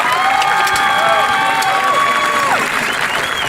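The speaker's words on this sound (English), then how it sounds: "I want a round of applause to the class of 2018" Graduating class at a high school graduation ceremony gets loud, sustained applause and cheering from a large crowd, with whistles and shouts rising over the clapping throughout.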